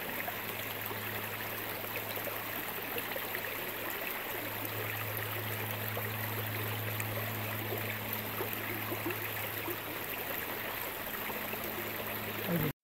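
Creek in Uvas Canyon County Park flowing along a trail, a steady broadband rushing and trickling wash that stays even throughout, with a low hum beneath it.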